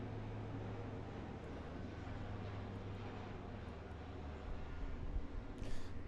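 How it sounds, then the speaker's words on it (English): An airplane flies overhead near an army base, a low, faint, steady rumble that swells slightly toward the end, with no talking. "hold for plane"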